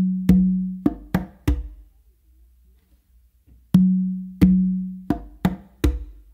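Bass finger clave exercise on congas: deep resonant bass tones followed by quick sharp finger and slap hits, two repeated phrases separated by a pause, close and alone.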